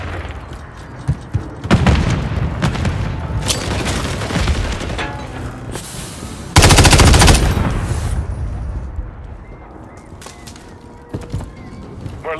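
Gunfire and grenade blasts in Call of Duty: Modern Warfare 3, with rattling automatic bursts and sharp shots over a noisy battle bed and a loud explosion partway through.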